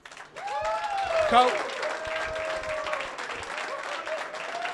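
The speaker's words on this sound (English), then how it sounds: "Can we get a round of applause?" Audience applause at a professional pool final in a Premier League Pool event, sustained clapping from the crowd while a voice talks over it near the microphone.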